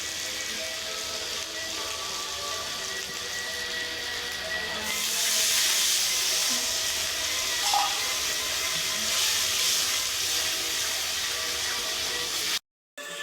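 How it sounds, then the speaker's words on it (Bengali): Spice mix with added water simmering and bubbling in a pot for a fish curry, a steady hissing, steamy boil that swells louder midway and continues close up with no talk. "মশলাটা ফুটতে শুরু করে দিয়েছে।"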